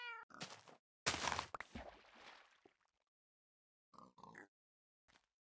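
A cat in Minecraft meows several times, a few short clear calls in bursts separated by silence, close and distinct.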